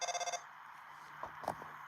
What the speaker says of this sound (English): Oh, it's your phone call instead of hearing Susie's voice.